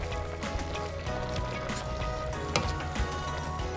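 Cabbage stew with chopped tomatoes, salt and black pepper being stirred in a pot, with a steady sizzling, liquid churning and faint scraping throughout at moderate level, no talking.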